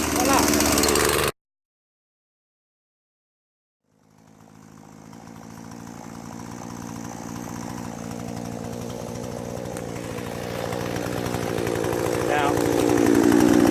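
A farm chainsaw, choke set and chain brake on, fires up after a stretch of silence and then runs at a steady, loud idle that builds slightly, with a brief spoken word near the start.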